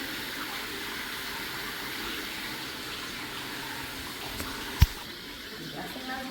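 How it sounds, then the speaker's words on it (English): Water draining out of building pipes during a leaky pipe repair, a steady broadband rushing flow at even level, with one sharp knock near the end, then a slightly quieter flow. "I'm guessing we're like running water out of the pipes here"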